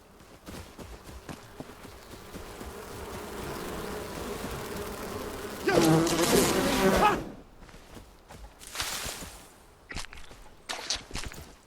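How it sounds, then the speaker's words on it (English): Bees buzzing in the survival game Enshrouded, a steady insect drone under game ambience with footsteps, swelling into a loud close burst midway, then shorter buzzing passes fading in and out. "And of course all the bees are active again, just like last time."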